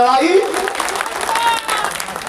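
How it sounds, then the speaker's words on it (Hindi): Applause from a crowd at a political rally rises under a voice over the loudspeaker, the clapping fading as his speech carries on. "दोनों हाथ उठा के एक बार ताली बजा रहा है"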